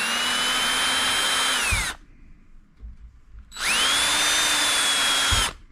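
A power drill whines steadily for about two seconds while drilling a hole in a guitar for tuners, stops briefly, then spins up again for another two-second run.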